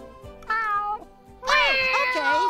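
Cartoon cat meows from SpongeBob SquarePants: Battle for Bikini Bottom, two clear meow calls with rising and falling pitch, the second louder and longer, close and alone.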